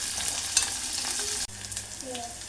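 A talimpu spice tempering fries in a pan for pappucharu, cooked until it turns maroon: a steady crackling sizzle that cuts out briefly midway, then resumes at a similar level with a few small pops.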